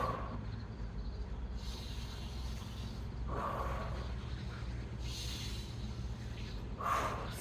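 Forceful Energizer breathing exercise: repeated sharp nasal exhales and inhales, roughly every two seconds, close and moderately loud over a low steady hum.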